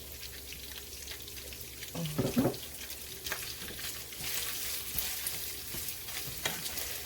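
Sausage frying in leftover grease in a pan, a steady soft crackling sizzle with a few louder spatters and scraping stirs, fairly quiet and close, no talking.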